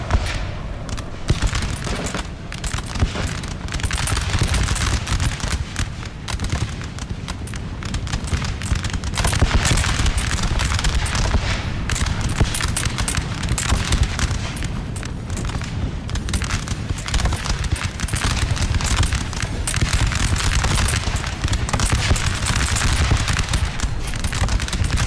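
Dense, continuous musket volleys crackle without pause for the whole stretch in Napoleon Total War, a loud rattling fusillade of many overlapping shots mixed with occasional deeper booms.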